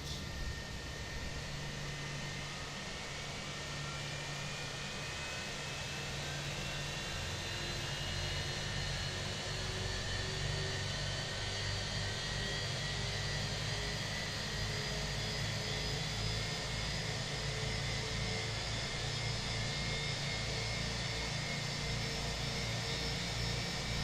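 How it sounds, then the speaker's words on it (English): An Airbus A320's engine 1 spooling up in the Fenix flight simulator, a constant broad jet whine and rush with slowly rising tonal whistles layered over a low rumble, steady and moderately loud with no talking. "Engine 1 start. So we're looking at about a minute for the startup."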